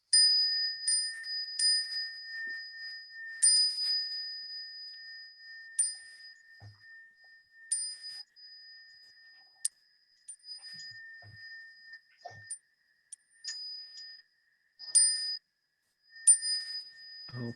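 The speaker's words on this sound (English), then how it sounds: "I'm going to ring the bell 3 times." A meditation bell struck in a quiet hall during a Buddhist ceremony, each strike a clear ringing tone that decays slowly, several strikes spread through the passage amid near silence.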